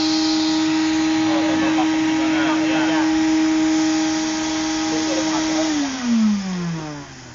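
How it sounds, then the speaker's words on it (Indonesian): A vacuum cleaner hums steadily and close during cleaning, then its pitch drops as it winds down near the end. Voices talk quietly underneath. "Nah, ini vakum aja ya."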